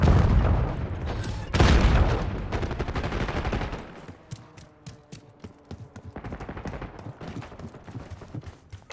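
Multiplayer gunfire in Call of Duty Black Ops 6, rapid bursts of automatic shots and a heavy blast up front, then lighter rattling fire that continues in quick repeated cracks at moderate distance.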